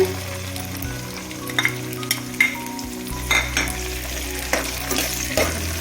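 Beans, carrot and field beans frying in oil for bisi bele pulao give a steady sizzle, broken by several sharp clinks and scrapes of a spoon stirring against the pan, with a low hum underneath.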